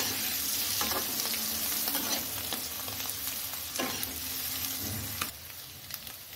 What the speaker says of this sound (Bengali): আলুটা ভেজে প্রথমে আলুটাও উঠিয়ে নেব।